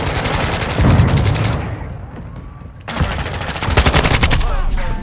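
Rapid automatic gunfire bursts crackle loudly in Modern Warfare 2 multiplayer, two dense volleys separated by a short lull, with faint talk beneath.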